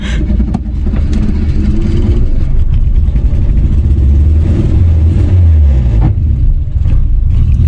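An Audi R8 police car's engine revving hard and loud during a hill start, a sustained deep roar that rises and holds close by, with no talk over it.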